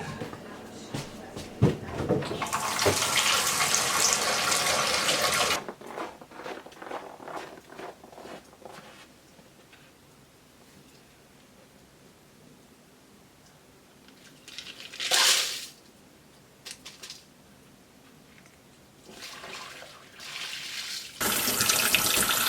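Tap water rinses small ceramic rock-tumbling polish media in a small colander, with loud rushing bursts of running water at the start, midway and at the end, and quieter rattling and handling in between.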